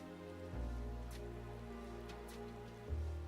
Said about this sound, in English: It's raining, by the way.